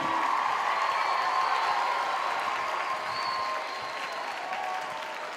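Audience applause for contestants at a grade-school poetry slam, a dense sustained clapping from a large crowd, steady and then easing slightly toward the end.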